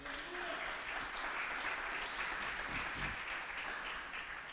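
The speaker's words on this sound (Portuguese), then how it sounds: "Aplauda o Senhor." Church congregation claps together in steady, moderately distant applause that holds for several seconds, with faint voices and a low rumble mixed underneath before it starts to ease off.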